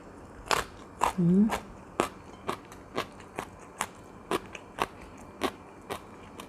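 Crunchy luk niang (djenkol beans) bitten and chewed close to the microphone, giving a string of sharp crunches at a steady pace. A brief voiced murmur of enjoyment sounds partway through.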